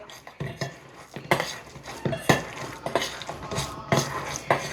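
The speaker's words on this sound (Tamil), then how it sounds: "ஸோ இதை ஒரு பொட்டேட்டோ ஸ்மேஷரால் ஸ்மாஷ் பண்ணிக்க போகிறோம்." A potato masher mashes cooked vegetables in a pot, giving repeated close thuds and metallic clanks against the vessel in an uneven rhythm.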